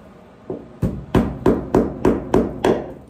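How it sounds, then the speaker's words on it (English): A hammer drives a nail with seven sharp, evenly spaced strikes, starting with a light tap and then growing into loud, close blows at a steady rhythm. "So I have my little nail pack right here and a hammer."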